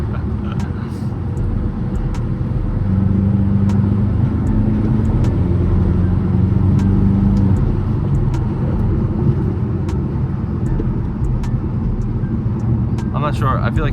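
Mercedes-AMG C63 engine rumbling steadily in a tunnel during traffic, a loud continuous low drone with a brief rise in pitch as it pulls, heard from inside the car with talk over it.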